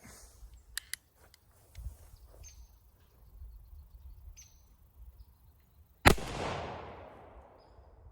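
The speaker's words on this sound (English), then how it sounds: "Before we move anything, we're going to shoot it a couple of times." A single loud close shot from a Traditions Kentucky caplock pistol rings out after quiet handling noises, followed by a decaying boom and echo.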